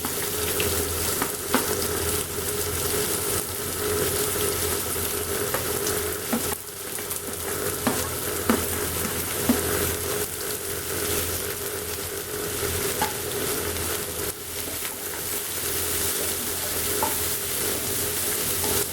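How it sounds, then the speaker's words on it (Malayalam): Chopped onion sautéing in hot oil, stirred until golden brown, making a continuous crackling sizzle with frequent scraping stir strokes and small clinks, close and steady throughout. "സവോള നല്ല ഗോൾഡൻ ബ്രൗൺ കളറാവുന്നത് വരെ നമുക്കിതിനെ വഴറ്റി"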